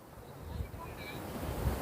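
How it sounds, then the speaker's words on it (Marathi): Soft, continuous wash of Arabian Sea surf with white foaming waves rolling onto a beach, heard from a distance with a steady windy hiss and no voices. "पांढऱ्या फेसाळलेल्या लाटा"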